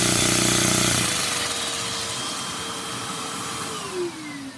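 A Lego one-cylinder OHV vacuum engine runs with a steady, loud whirring drone that starts harsh, then settles and shifts pitch as its port is covered and uncovered.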